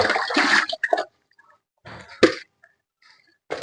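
Water sloshes and splashes in short bursts as fish are rinsed in a basin of water, with quiet pauses between.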